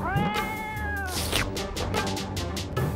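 Cartoon cats meow and caterwaul loudly in an animated series, several overlapping drawn-out meows in quick succession, close and busy with no talking.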